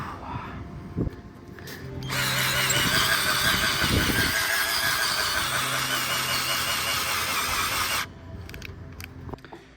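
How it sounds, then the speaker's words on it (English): A cordless battery drill bores a hole during a Starlink installation, its motor whining loud and steady for about six seconds before cutting off, with quieter handling noise before and after. "I drilled one hole. Now I have to wait for the battery to charge."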